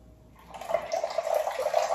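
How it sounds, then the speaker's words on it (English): Homemade nut milk pours through cheesecloth and a sieve, starting after a short quiet moment and then running as a steady, close liquid splash that continues to the end. "Pour it through your sieve."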